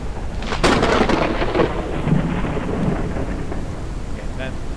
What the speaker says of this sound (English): that thunder is really loud. Every time.